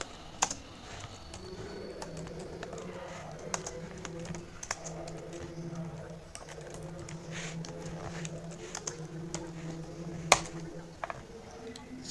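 Typing on a computer keyboard during a programming workshop session: steady, irregular key clicks with a few sharper taps, close and fairly quiet over a low background hum.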